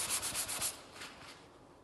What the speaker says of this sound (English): 180 grit sandpaper until it's flat.